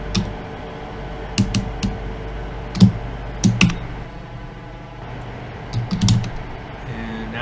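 Sparse keystrokes on a computer keyboard during Cisco DMVPN router configuration, a few isolated taps and short bursts of clicks with pauses between, fairly close over a quiet room hum.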